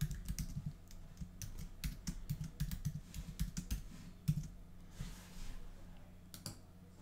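Typing on a computer keyboard to log in, a steady run of close, quick key clicks with brief pauses, fairly soft over low background hum.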